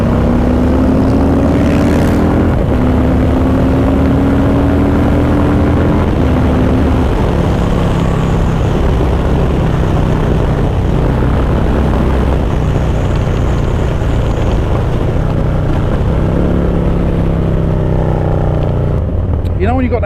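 A motorbike engine running loud and close while being ridden, its steady drone rising and falling in pitch through several gear changes, under a constant rush of wind.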